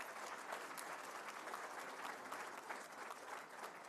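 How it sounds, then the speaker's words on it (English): Audience applause honoring a high school at the 2024 NSSCO and NSSCAS results release, a steady, even wash of many hands clapping, fairly faint and distant, with no talk over it. "Give them a round of applause."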